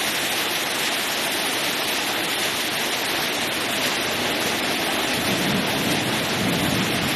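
Heavy rain and strong wind pound down in Khon Kaen, a dense, loud, unbroken roar that holds steady throughout with no voices over it.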